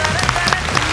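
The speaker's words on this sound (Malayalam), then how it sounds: "നല്ല കൈയടി." An audience at a stage comedy show applauds, dense and continuous clapping that stays loud throughout.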